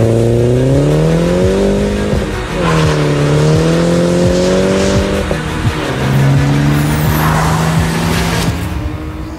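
A new BMW 1 Series facelift driving hard, its engine revving up and down through several gear changes with rising and falling pitch, loud and close, with some tyre noise underneath.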